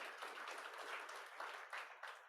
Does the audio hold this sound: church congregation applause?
yes